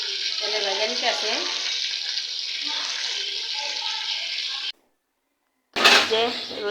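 Spiced meat roast frying in oil gives a steady sizzle with faint voices underneath, then cuts to silence for about a second before returning louder.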